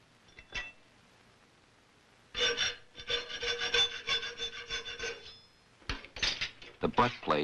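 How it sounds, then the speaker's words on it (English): A metal file rasps across the brass butt plate of a handmade flintlock rifle, working its fitting edges in two bursts of steady close strokes separated by a short pause, with a few light taps before. "The butt plate is filed only on the fitting edges now."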